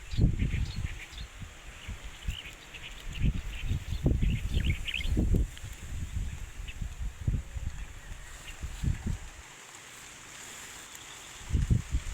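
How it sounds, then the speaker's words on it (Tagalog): Birds chirp in the Philippine countryside. The small, faint calls are scattered through the clip beneath steady wind noise and low rumbling thumps close to the microphone. "Ang marinig mo lang ay mga ibon"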